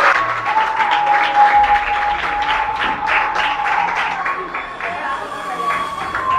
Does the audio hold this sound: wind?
no